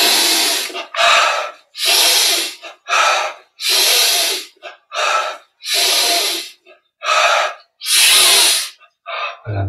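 Deep, audible breaths drawn in and let out during a yoga breathing exercise, about ten strong airy inhales and exhales in a steady rhythm, close and loud with short pauses between.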